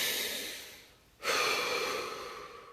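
A single deep breath, a long steady airy inhale, a short pause, then a full exhale, close and alone.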